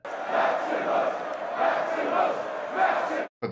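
A huge arena crowd roars and cheers in the Colosseum in the film Gladiator, a loud, swelling wall of voices rising in waves before cutting off abruptly near the end.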